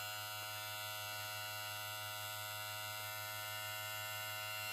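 Moozie HG 1901 electric hair clipper running with a steady, even motor buzz and hum, close and continuous with no talking.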